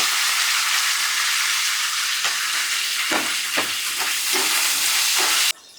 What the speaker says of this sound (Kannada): ಹಸಿ ಮೆಣಸಿನಕಾಯಿ ಹಾಕ್ತಾ ಇದ್ದೀನಿ